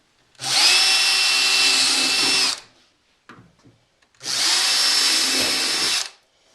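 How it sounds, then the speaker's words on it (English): A power drill runs loud and close in two long bursts of about two seconds each, separated by a short pause with faint clatter. "they're all the holes that you need to drill"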